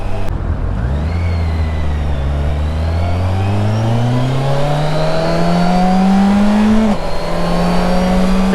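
A 2020 Kawasaki Versys 1000 SE motorcycle engine revs up steadily with rising induction noise, the pitch climbing smoothly over several seconds before a brief shift-like dip, loud and close with no talking.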